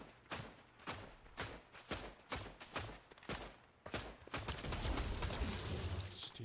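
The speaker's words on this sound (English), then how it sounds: "who's shooting at me?" Rapid bursts of video-game gunfire crack in irregular volleys, then give way to a dense, sustained barrage of shots and impacts that grows louder and fuller toward the end.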